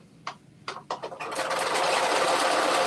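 A sewing machine stitches fabric for a wrap dress, starting with a few short separate bursts and then settling into a steady, continuous fast whir.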